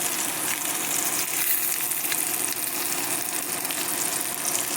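Fish frying: a dense, even, crackling hiss of hot oil held at constant loudness throughout, close up and with no talking.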